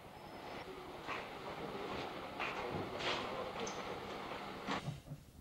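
A steam-hauled cross-country stopping passenger train rumbles steadily along the rails at a quiet rural Great Western station, with rhythmic clanks and squeals of carriages, fairly faint and distant.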